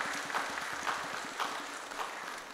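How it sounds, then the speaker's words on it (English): Applause from a church congregation during a morning service, honoring a woman before prayer; steady moderate clapping fills the short stretch with no voices over it. "Yeah, clap before we pray."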